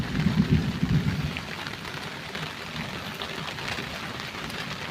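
Rain falls steadily on a paddy farm as a dense, even hiss of drops, heavier for the first moment and then constant, with no voices.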